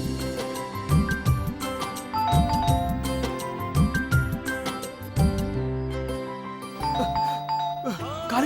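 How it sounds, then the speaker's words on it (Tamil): A doorbell rings with bright, melodic chimes that repeat several times, layered over other tonal background sounds. "Calling bell."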